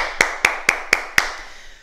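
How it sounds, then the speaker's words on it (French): Five sharp, evenly spaced claps from a small group of adults applauding each other at the end of a karate class, close and crisp, then quiet. "Et on s'applaudit, messieurs, dames."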